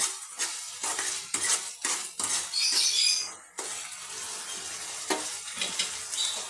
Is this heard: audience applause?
no